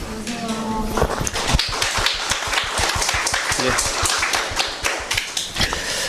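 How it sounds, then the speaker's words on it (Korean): An audience in a lecture hall gives sustained applause before a Korean history class, with dense, steady clapping from many hands that runs for several seconds at close range. "이 박수가 좀 가슴을 좀 울리는 느낌을 받습니다"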